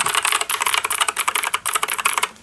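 Rapid, steady keystrokes on an RG900K keyboard with optical switches, close and crisp, with a continuous patter of clicks and no talking.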